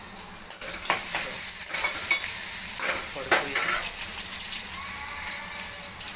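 Garlic and ginger paste frying over a low flame in a pan, giving a steady soft sizzle with scraping stir strokes throughout.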